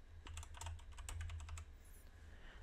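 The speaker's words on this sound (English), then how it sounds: "just type in the following" Keys clatter on a computer keyboard in quick, uneven bursts of clicks up close, with a faint steady hum underneath, then the typing stops and the room goes quiet.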